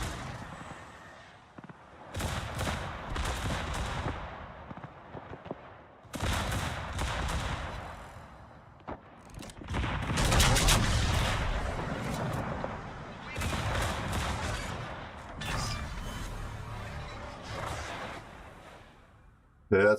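Secondary guns fire at an enemy ship in the World of Warships naval game, rolling bursts of booming gunfire swelling and fading in waves, fairly quiet and muffled, with a player talking over parts of it.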